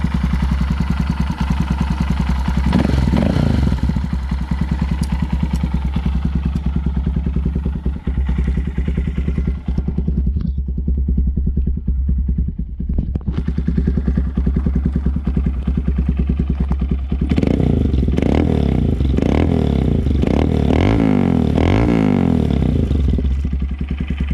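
A 2022 Honda Grom SP motorcycle with an aftermarket exhaust runs close by, its loud engine alternating between a throaty idle and repeated blipped revs. There is a brief quieter lull midway, then a burst of rising and falling throttle.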